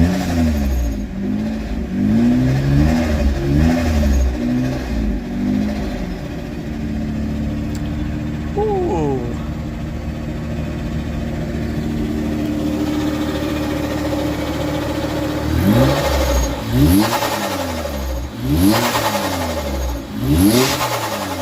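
A car engine is started and revved on a project build, loud and close, with repeated throttle blips rising and falling, a steady idle stretch in the middle, then another burst of hard revving near the end.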